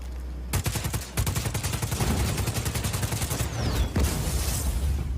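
Rapid automatic gunfire rattles in loud continuous bursts during a Just Cause 4 generator fight, a brief pause near the start, then sustained volleys with heavy low booms.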